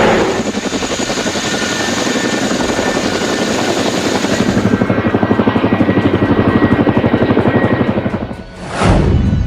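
A helicopter roars loud and close, its rotor beating in a fast steady throb, briefly dipping before surging again.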